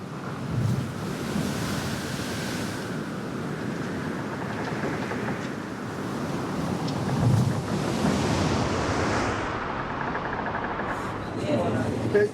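Huge storm waves rocking the humanitarian rescue ship Ocean Viking at sea, a constant roar of surf and wind buffeting the microphone, loud and unbroken, with faint voices beneath.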